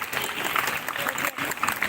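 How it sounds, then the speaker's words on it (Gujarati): An audience at a Republic Day event in India, cheering on schoolchildren, claps in a dense, sustained patter of many hands, moderately loud and without talk. "એટલે તાળીઓ ઓછી ન પડવી જોઈએ."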